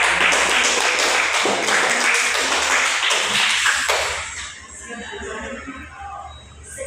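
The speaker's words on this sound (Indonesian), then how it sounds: "Tepuk tangan dulu untuk" A classroom audience breaks into applause after a student presentation, dense clapping for about four seconds that then fades into softer scattered claps and room noise.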